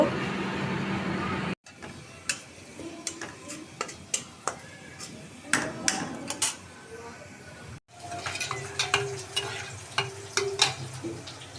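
Cooked dal going into hot oil in a home kitchen, a continuous sizzle broken by sharp spoon and pot clicks, with a short pause partway through and faint talk in the background.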